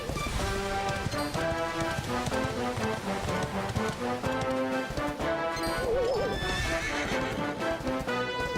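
Horse in the video game Dragon Quest XI, with quick clip-clop hoofbeats and a loud neigh layered over a busy orchestral game soundtrack that plays continuously.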